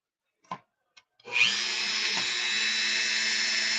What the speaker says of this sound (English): We'll drill the other side too.